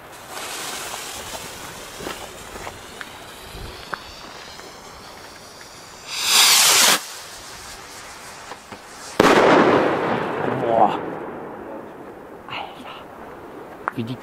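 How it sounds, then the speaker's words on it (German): Magnum shell rockets whistle up and burst low with loud, crackling booms, two big blasts several seconds apart over outdoor background noise. "Es sind auf jeden Fall unglaublich laute Raketen, weil die ziemlich tief explodieren."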